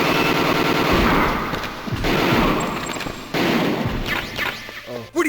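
Automatic gunfire in Metal Gear Solid 1 (PC version): bursts of machine-gun shots mixed with heavier impacts, moderately loud, with voices talking over the shooting.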